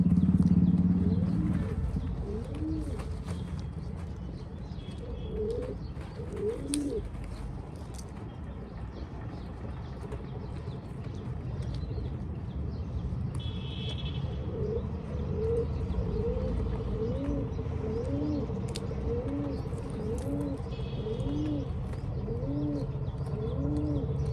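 Several pigeons coo in repeated soft, rolling bursts while feeding on peanuts, with occasional chirps and light flapping in the background.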